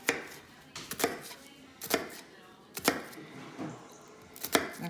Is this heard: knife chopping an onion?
yes